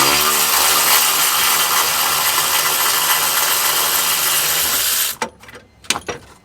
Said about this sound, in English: Now we're going to work on the driver's side to remove the M10 triple squared.